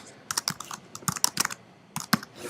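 Bursts of typing on a computer keyboard while entering text into a PowerPoint text box, with quick clustered keystrokes separated by short pauses, close and fairly quiet with no talking.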